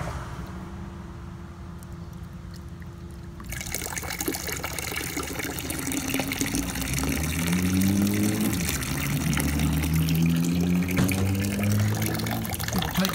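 Water pours steadily into a float switch cup, a continuous gushing fill that begins after a quiet moment and grows fuller and louder as the level rises.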